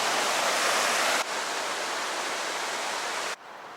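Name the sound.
South Platte River flowing in Denver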